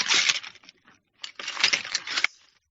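A wrapped gift package shaken in two bursts, something loose inside rattling and clinking like broken glass, fairly close and alone with a short pause between.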